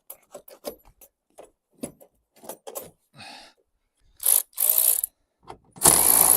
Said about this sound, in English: I need to just reach under with this ratchet spanner